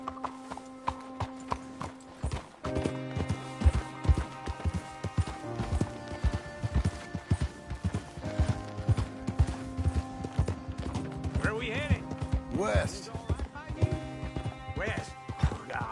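Rhythmic hoof clip-clops from a walking horse in the video game Red Dead Redemption 2, steady and fairly close, with a low background hum and a voice speaking over them.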